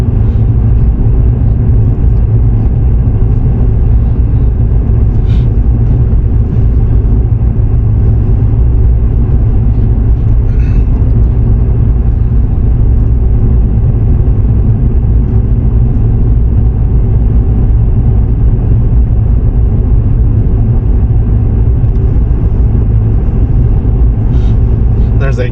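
A car drives a snowy mountain road in southeast Utah on the La Sal Mountain Scenic Loop, a steady loud low rumble of engine and tires running continuously through, with a few faint clicks over it.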